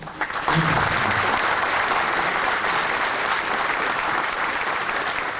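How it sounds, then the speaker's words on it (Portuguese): Audience applause at a Brazilian Locaweb business talk on market trends, a dense, steady round of clapping filling the hall from start to finish after a brief quieter lead-in. "Uma salva de palmas para o Gilberto."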